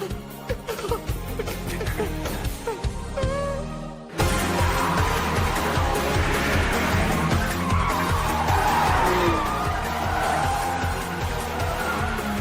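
Car tires skid and squeal hard through a hairpin turn in the anime street-racing film Initial D Third Stage; loud, continuous tire screech and engine roar with a sudden swell partway through, dense and sustained.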